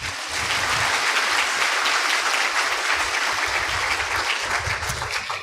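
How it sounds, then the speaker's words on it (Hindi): An audience at a Brahma Kumaris spiritual talk breaks into sustained, dense clapping that fills the room evenly for several seconds before trailing off at the end. "अपने लिए तो ताली बजाओ"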